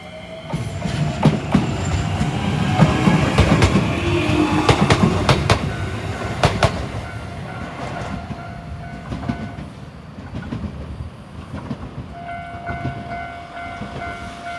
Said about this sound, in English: There's the train coming the other way now.